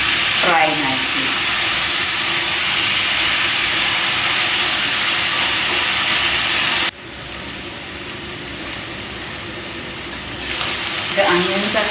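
Onions fry in a pan for mutton biryani, giving a continuous broad sizzle with a brief stirring scrape near the start and another toward the end.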